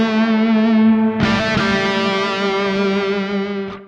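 A distorted electric guitar chord rings through a cavernous reverb effect, struck again partway through and left to wash out in a long, dense sustain.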